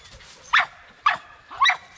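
A dog barks three times in short, sharp bursts, close by and evenly spaced about half a second apart, standing out clearly against a quiet background.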